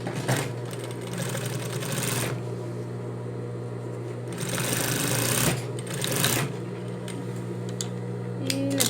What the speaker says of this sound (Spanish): Y le pasamos una segunda costura.